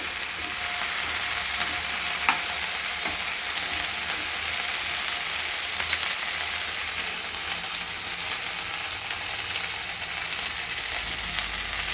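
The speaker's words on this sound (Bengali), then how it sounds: "এবারে সবজিটাকে দিয়ে দিলাম। আমি এবার এটাকে গ্যাস আঁচ বাড়িয়ে আমি এটাকে নাড়ব।" Vegetables, beans among them, frying in a pan over a raised gas flame and being stirred: a loud, even sizzle holds steady throughout, with faint scrapes and knocks from the stirring.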